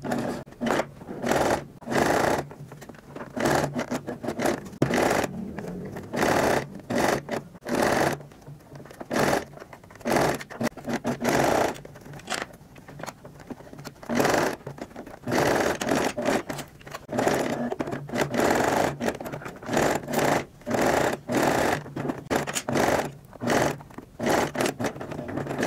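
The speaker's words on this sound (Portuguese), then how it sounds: "Vamos costurar aqui também." A sewing machine stitches a fabric pencil case in repeated runs, its motor whirring in bursts of a second or two separated by brief pauses, close and steady throughout.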